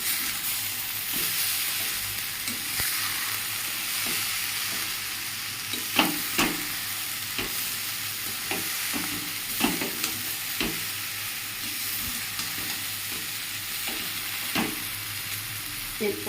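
Spices frying in a pan as they are stirred with a spoon: a steady sizzle and hiss underneath, punctuated by irregular scraping and knocking strokes, close and moderately loud.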